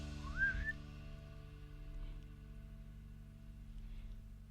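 An owl gives a single rising whistled call near the start, brief and fairly clear, then the rest is a low steady hum with no voices.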